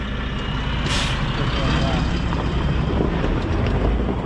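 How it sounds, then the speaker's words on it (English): Loaded truck driving over a freshly built dirt road, a heavy, steady engine rumble close by with wind buffeting the microphone and a short hiss near the start. "he's gonna make a couple passes up through there with that loaded truck"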